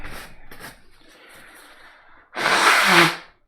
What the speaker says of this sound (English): Okay, I need to blow my nose again.